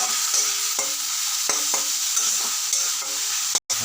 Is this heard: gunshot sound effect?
no